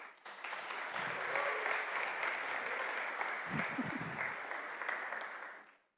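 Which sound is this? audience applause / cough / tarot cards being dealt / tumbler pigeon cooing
audience applause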